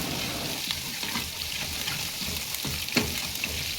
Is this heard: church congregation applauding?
no